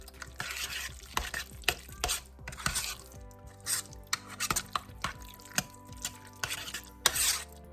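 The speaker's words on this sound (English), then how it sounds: "Give that a nice stir." A spoon stirs spaghetti pie ingredients in a pot, producing repeated close scraping and clinking strokes in an uneven rhythm, with soft wet sloshing between them.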